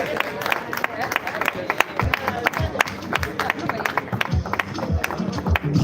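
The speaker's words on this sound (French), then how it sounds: "Sous vos applaudissements, je libère l'officier de l'état civil" Wedding guests at a civil ceremony applaud the civil registrar, a dense patter of many hands clapping up close amid crowd murmur and cheering, steady throughout.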